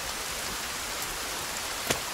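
Steady, faint rain hisses in the survival game Sons Of The Forest, an even wash of falling drops with one brief brighter patter near the end and no voices.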